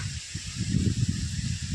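Wind gusting through garden plants beside a flowering hibiscus, a steady close rustle and rushing hiss with uneven swells, alone and moderately loud.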